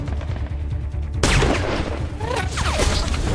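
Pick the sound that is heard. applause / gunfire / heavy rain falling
gunfire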